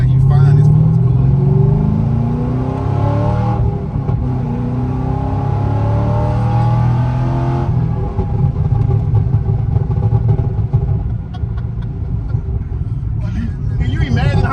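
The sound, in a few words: Chevrolet Corvette C6 Z06 accelerating hard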